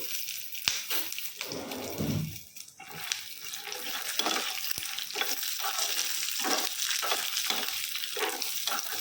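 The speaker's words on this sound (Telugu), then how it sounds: "ఇప్పుడు ఈ చట్నీకి సంబంధించి అన్నీ వేపుకోవడానికి వీటిని సిమ్లో పెట్టి మాత్రమే వేపుకోవాలండి" Peanuts and green chillies frying in a little oil over a low flame for peanut chutney, a soft continuous sizzle with intermittent scraping stirs and a brief watery splash early on; no voices.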